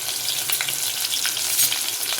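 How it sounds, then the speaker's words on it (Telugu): Onions sizzle in hot tempering oil, a dense, continuous close-up frying hiss flecked with small crackles and pops throughout. "పోపు అయితే పెట్టుకున్నాను అయితే ఉల్లిపాయలు అయితే వేసుకున్నానండి"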